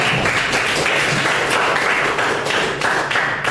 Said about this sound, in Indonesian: Dan tepuk tangan dulu untuk kita semua.